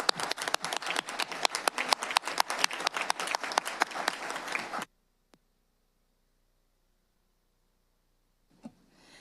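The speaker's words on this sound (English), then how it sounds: "ask that we all give our board a round of applause for their tremendous service" A board meeting crowd at Rockford Public Schools gives its Board of Education a brisk, crisp round of clapping for about five seconds, then it stops abruptly, leaving near silence with a faint stir near the end.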